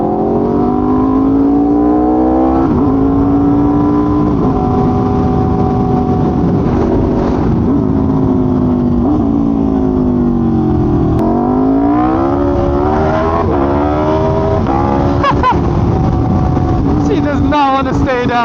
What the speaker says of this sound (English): This bike sounds like heaven.